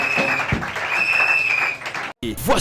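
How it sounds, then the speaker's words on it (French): A church congregation applauds and cheers together, a dense, sustained wash of clapping and voices at a steady level that breaks off briefly near the end before resuming. "Acclame Jésus fort."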